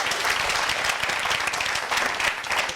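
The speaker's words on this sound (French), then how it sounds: "on va applaudir déjà pour le fait que ça va aujourd'hui" A live audience claps together in steady, dense applause throughout, loud and sustained with no voices standing out.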